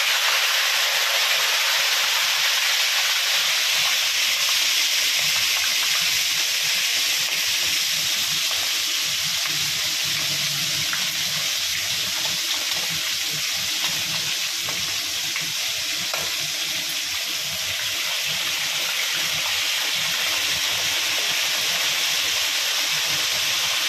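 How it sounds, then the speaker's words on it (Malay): Shallots, garlic, ginger, turmeric, lemongrass and bay leaves frying in hot oil, giving a loud, continuous sizzle with steady hiss and occasional stirring scrapes throughout, with no talk over it. "Oke guys, kita goreng."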